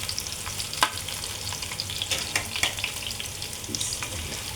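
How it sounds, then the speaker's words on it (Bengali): Chilies and onions frying in a pan in a home kitchen, a steady hiss of sizzling oil broken by occasional sharp crackles and stirring scrapes, close and alone without talk. "আর এখানে মরিচ পেঁয়াজ ভেজে নিচ্ছি"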